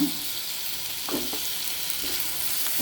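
Chopped onion with garlic-ginger paste frying in a pan, a steady close sizzle with a few soft stirring scrapes, no talking.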